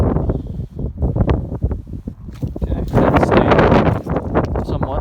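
Wind gusting outdoors at a muddy festival field during metal detecting, a steady broadband rush that builds and roars louder in the second half, with faint handling noises earlier.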